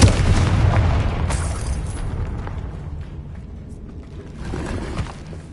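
A Confringo fire spell blast in a video game, a loud close booming explosion that rumbles and fades over several seconds, with a second smaller swell near the end.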